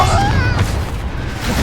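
A Confringo fire-blast spell going off in a video game, a short heavy booming burst with a deep rumbling low end that fills the moment loudly.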